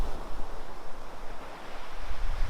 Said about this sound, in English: Bigger waves here than Oceanside.